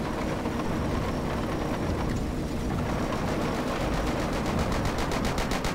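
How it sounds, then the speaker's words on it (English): Relentless automatic gunfire in the Forgotten Hope 2 Operation Supercharge battle as a soldier fires at a rock, with dense rapid bursts that keep going without a break. "He's shooting the rock."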